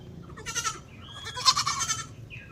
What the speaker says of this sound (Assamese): ছাগলীখিনি কেলৈ চিঞৰিছে নাজানো